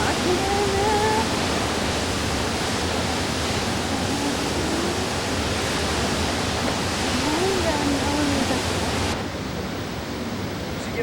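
A waterfall in the Grand Canyon roars as a steady, dense wash of rushing water, with faint voices talking underneath.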